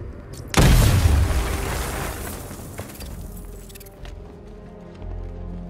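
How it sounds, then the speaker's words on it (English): A loud, close explosion blasts through a wall in a Batman video game, a sharp booming burst followed by a long rumbling decay and scattered debris clatter. "get close and apply the explosive directly to destroy that wall"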